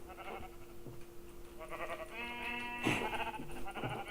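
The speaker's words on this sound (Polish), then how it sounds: "Owce. Owce." Sheep bleat repeatedly in Minecraft, harmonic wavering calls over a steady background hum, with a sharper bleat near the end.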